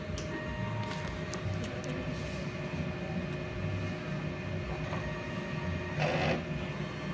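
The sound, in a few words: DTF printer running head clean cycle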